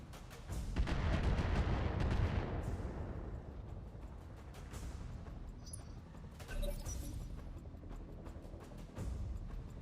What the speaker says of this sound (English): I saw a lot of missiles.